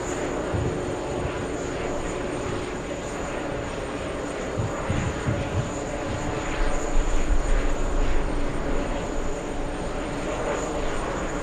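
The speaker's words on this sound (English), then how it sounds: "That's an A330 Neo." An Airbus A330neo airliner at JFK airport gives a continuous broadband engine roar with a steady high whine, swelling slightly louder toward the end, heard from a distance as a sustained drone.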